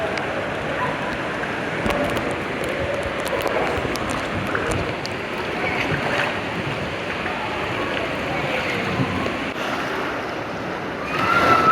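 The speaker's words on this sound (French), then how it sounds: "Et c'est parti pour les vagues." Steady broadband rush of churning water and surf from an indoor wave pool, continuous and fairly loud throughout, with faint voices mixed into the wash.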